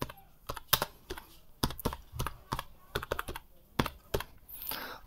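A computer keyboard is typed on while an online land survey form is filled in, giving irregular sharp clicks in short bursts and single taps, close and fairly quiet against a soft room background.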